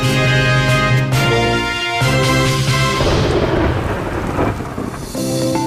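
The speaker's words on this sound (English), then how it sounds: "Heavy rain." Heavy torrential rain with thunder, a loud, close, continuous downpour roaring throughout, with deep rumbling thunder rolling beneath it and no voices.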